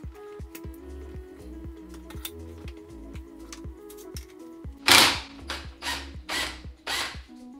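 BMW VANOS unit clamped in a vise being cranked apart with a hand tool: a steady run of quick metallic ratchet clicks, then several louder scraping, rasping strokes close by.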